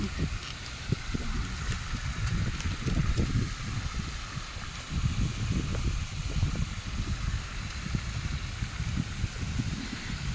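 Strong, steady wind roars and buffets the microphone with low rumbling gusts throughout, along with a faint hiss in the background, near a fountain in Taiwan.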